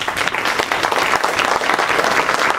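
Loud, dense applause from a classroom audience, a continuous wash of clapping that holds steady throughout.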